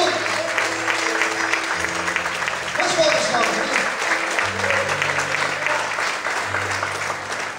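A church congregation applauds the Lord during an evening service, steady crowd clapping lasting several seconds with held keyboard chords and a few voices mixed in.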